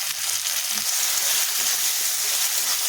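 Chopped green chili fries in hot oil in a pan for an egg tadka, giving a steady close hiss and crackle that runs unbroken throughout, with no talking.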